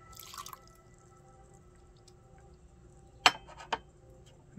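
Water splashing and dripping as loose-leaf black tea is rinsed during a gongfu tea session: a few soft, sharp drips and splashes, close but faint, in a quiet room.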